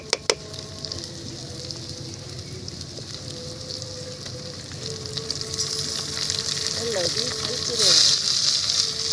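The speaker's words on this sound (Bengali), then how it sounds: "এখন খুন্তি দিয়ে নেড়ে দিচ্ছি মশলার সঙ্গে চিকেনটা খুব ভালোভাবে নেড়ে চেড়ে মিক্স করে নেওয়া হয়ে গেছে" Marinated chicken pieces fry in a ginger-garlic spice base for chicken kosha, turned with a spatula; a steady close sizzle runs throughout with scraping strokes, briefly swelling near the end, and a voice is faintly present.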